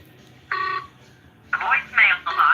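A telephone call being placed back, with one short electronic ring or dial tone followed by a series of brisk tonal bursts, loud and close, with no talk over them.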